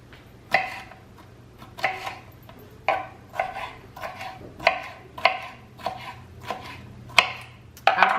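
Red and orange bell peppers chopped with a knife on a cutting board, a steady series of crisp, close thuds at a regular rhythm, with no talking.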